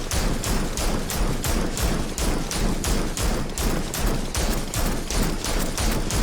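Rapid automatic gunfire from the video game Gotham Knights, a dense, loud, continuous burst of shots with a steady rhythm and no talking.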